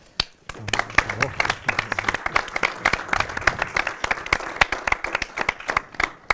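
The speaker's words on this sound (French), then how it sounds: "On peut l'applaudir." Scattered clapping from a small audience at a sports performance talk, individual claps sharp and distinct in a loose patter, with a voice murmuring briefly early on.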